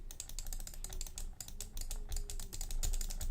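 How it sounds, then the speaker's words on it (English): Rapid, steady run of light clicks from a computer mouse, close and fairly quiet, with no talking, though the clicks come through as a dense typing-like clatter. "is the more silent clicky noise."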